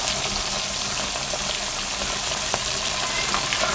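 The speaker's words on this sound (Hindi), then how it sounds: "ज़्यादा ऑयल में आपने फ्राई करना है इसको, और फिर फ्राई करके इसको बाहर निकाल लेना है" Minced-meat balls frying in plenty of hot oil, a dense continuous sizzle and crackle heard up close, steady throughout with no voices.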